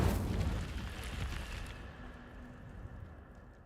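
Casting the Incendio fire spell in Hogwarts Legacy gives a loud, whooshing burst of flame that rolls out and fades into a low, lingering roar.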